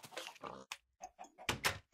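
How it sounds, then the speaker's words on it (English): A Minecraft pig being ridden and steered with a carrot on a stick gives several short, close grunts and oinks in quick succession over a couple of seconds. "As you can see now, the pig is going to follow the carrot."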